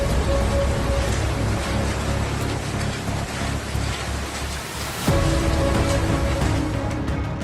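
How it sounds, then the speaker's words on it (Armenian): Egg-sized hail pelts down in Stepanavan as a dense, loud, continuous roar of impacts, briefly thinning before surging again. "Ձվի չափ կարկուտ է տեղացել Ստեփանավանում"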